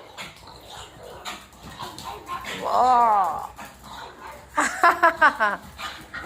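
A dog gives high, whining yips and whimpers: one drawn-out cry near the middle, then a quick burst of short yelps. People talk through much of it.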